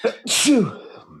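A single sharp sneeze bursts out close by, a quick intake then a loud explosive release that trails off into quiet.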